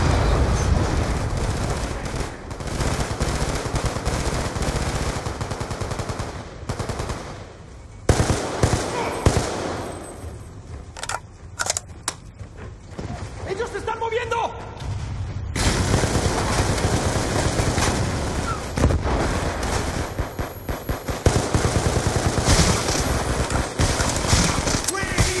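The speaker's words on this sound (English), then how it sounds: "Suppressive fire!" Suppressive machine gun fire in the Call of Duty Black Ops 2 video game, long loud bursts of rapid automatic gunfire with explosions, briefly easing midway before resuming, under shouted soldier voices.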